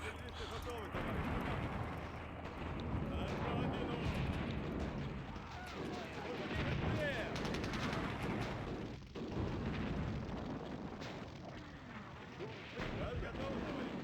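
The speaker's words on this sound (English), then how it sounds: "We'll first take our artillery and do this. We can kill these paratroops." Artillery fire in the WWII strategy game Sudden Strike Forever, aimed at paratroopers in a town: dense, continuous rumbling blasts and bursts, with someone talking over the barrage throughout.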